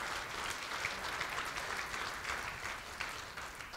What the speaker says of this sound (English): Let's give all of our committee members a round of applause.